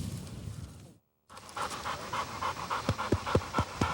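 A pointer hunting dog pants in quick, rhythmic breaths close by during a pheasant hunt. The panting starts quietly and grows louder after a brief silence.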